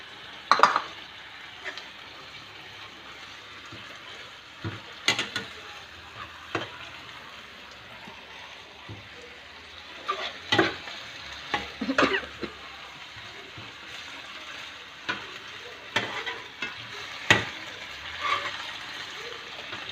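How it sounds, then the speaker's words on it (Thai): Minced pork and holy basil leaves stir-frying in a hot pan, with soft continuous sizzling broken by sharp scraping stirs and spatula clatters at irregular intervals, close and fairly quiet. "พอหมู ผัดเสร็จแล้วนะครับ ให้เราใส่ใบกะเพราลงไปเลยนะครับ"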